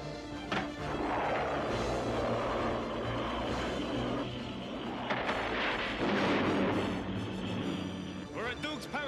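Missiles firing in a G.I. Joe cartoon battle, a dense roar of launches and explosions with booming thumps, loud and continuous, with character voices shouting over the blasts.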